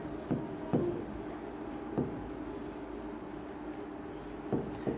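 A pen writes on paper during the working of a Class 12 determinant math problem, giving a faint steady scratch broken by a few soft, distinct taps spread through the stretch, close and quiet, with no talking.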